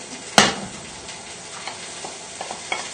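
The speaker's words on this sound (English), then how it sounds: "straight in with the sage, the shallot and the garlic. Just give the oil a little swirl around the pan" Sage, shallot and garlic go into hot oil in a pan with a sharp initial hit, then a soft, sparse crackle of frying with scattered small pops and stirring.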